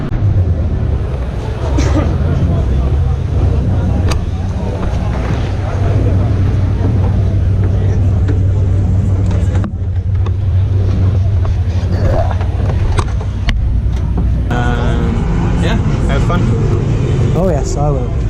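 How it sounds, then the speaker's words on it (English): Onboard a GT3 race car during a 2018 VLN race on the Nürburgring Nordschleife, the engine drones loud and unbroken, blended with heavy wind rush and a few shifts in pitch as it works through the corners. "So here we go, first time out on the Nordschleife in the GT3 car."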